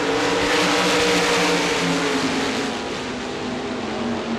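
A pack of ASI RaceSaver sprint cars roars away at the green flag at Devil's Bowl Speedway, engines loud and close in a sustained, revving blare that eases slightly toward the end.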